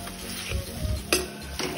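Biryani spices with turmeric, salt and red chilli fry in a pan over a low gas flame for chicken biryani, with a continuous sizzle and scraping stirs, plus one sharp utensil knock.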